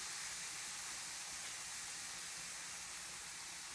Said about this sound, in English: Then we start that fizzing action.